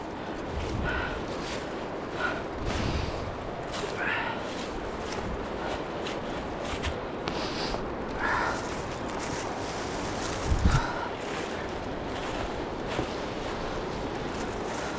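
Rushing whitewater at Dartmouth Rapids in Ohiopyle, where a small stream feeds a boulder field, gives a steady broadband roar with a few brief knocks, much like footsteps on the trail.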